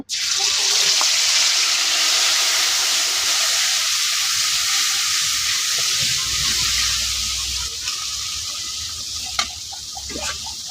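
A steady, hissing sizzle of spice paste frying in a pan for dried-chili potato curry, constant and fairly loud throughout with no talking.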